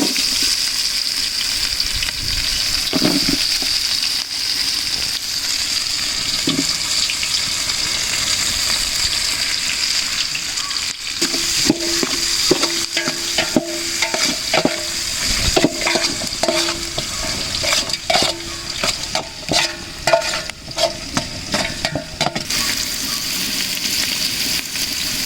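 Spices and sliced onion fry in coconut oil for Ambur country chicken biryani, giving a steady close sizzle with scraping stirs and clatter running throughout, no voices.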